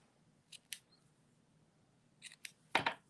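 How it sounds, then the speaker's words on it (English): Scissors snip through ribbon trimming a bow for a slimline card, a few quiet separate cuts followed by a louder final snip near the end. "grab my snips, and we're going to trim this off here"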